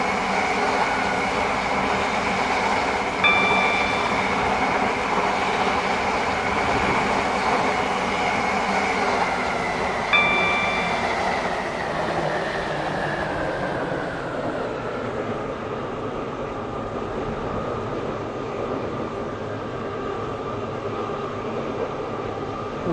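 Class 720 electric train driven in the Roblox game SCR, a steady rumbling rail hum with a whining traction motor that rises and then falls, plus two brief tonal beeps, no voices.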